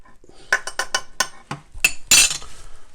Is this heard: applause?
no